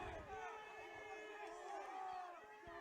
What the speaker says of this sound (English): now Baraboo fans making some noise